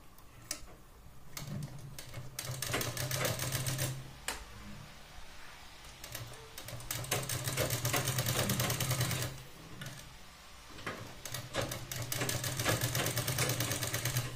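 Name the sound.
sewing machine stitching a blouse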